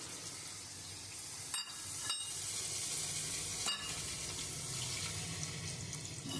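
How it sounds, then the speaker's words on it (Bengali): Potato and ridge gourd frying in spice paste for a thin pangas fish curry, a steady close sizzle with a few brief stirring clatters, no talking. "আমি আলু আর ঝিঙে দিয়ে আমি মশলাটা দিয়ে কষে নিলাম।"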